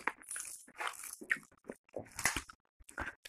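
Crisp, crunchy bites of pappadam alongside beef biryani, heard close to the microphone as a series of irregular chewing and crunching bursts with short pauses between them.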